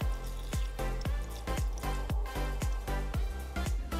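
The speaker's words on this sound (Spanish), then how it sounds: "Solo le voy a poner un poco más de agua para respetar el máximo." Water is poured into a food steamer before steaming broccoli and spinach, giving a steady splashing trickle with repeated dripping plops at a regular beat, close and fairly quiet, with no talk.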